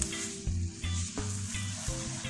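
Sugar roasting into carrot halwa in a pan, a soft steady sizzle broken by regular scraping pulses from stirring, close and fairly quiet with no talking.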